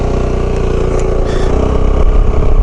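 A Gilera Fuoco 500 three-wheel scooter's exhaust drones loudly up close, its pulsing beat rising slightly as it revs.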